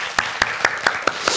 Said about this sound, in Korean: 박수로 우리 힘차게